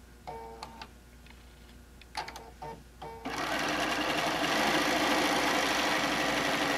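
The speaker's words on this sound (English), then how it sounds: "we want to go ahead and stitch around the edge of the fabric just to once again make that pocket a single piece of fabric" Sewing machine stitching around the edge of a fabric pocket for a gadget caddy, a few short start-stop bursts first, then a steady, loud, continuous whirring run with no talk.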